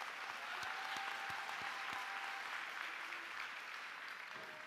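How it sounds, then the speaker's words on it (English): Applause at a spring commencement ceremony for newly commissioned second lieutenants, a steady wash of clapping from a large crowd in a big hall, sustained and fairly distant with a few sharper claps near the start. "Please give them a round of applause."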